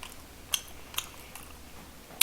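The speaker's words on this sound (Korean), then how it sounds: "아삭아삭이 당근 좀 먹을게요" Crisp carrot sticks crunched between the teeth during a meal of bossam and gamjatang, several sharp separate bites spaced apart, close and fairly quiet with a brief pause between each.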